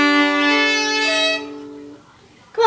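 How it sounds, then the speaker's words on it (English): A violin plays a sustained bowed tone, clear and close, holding for over a second before fading, followed by a brief quiet gap and a short sound at the end. "now you put the violin on your chin into a comfortable position,"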